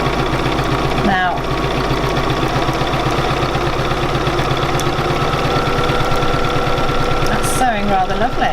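A Bernina 475QE sewing machine runs smooth and steady during free machine embroidery, a fast even stitching rattle with a low motor hum, loud and close, plus a couple of brief squeaky shifts.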